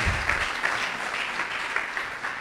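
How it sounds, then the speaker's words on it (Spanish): A church congregation claps steadily and loudly throughout, a dense, even wash of applause with no voices over it. "Denle un aplauso fuerte a la palabra del Señor."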